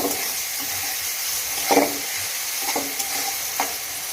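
Overnight-soaked toor dal being stirred with spices in a hot pan, a steady sizzle broken by a few distinct scraping strokes of the spoon, close up and without speech.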